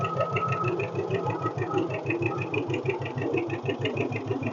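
A John Deere 620 tractor engine runs steadily close by, its low, regular firing pulses thumping in an even rhythm with a mechanical clatter layered on top, no voices.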